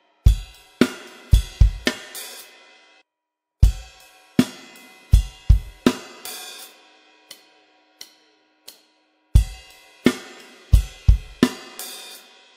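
A drum kit plays a rock groove, with punchy kick and snare hits, crashes and sparse hi-hat ticks between phrases, close and alone without talking.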